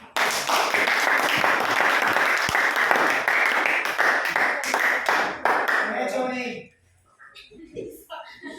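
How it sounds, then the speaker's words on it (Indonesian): A classroom of students applauds a group presentation, dense clapping filling the room for about six seconds before fading into a few scattered claps and quiet murmuring. "Tepuk tangan dulu buat."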